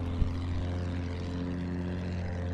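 A propeller airplane engine in the Battlefield 1 video game drones steadily and close, a loud constant hum with a brief click near the start and no talking.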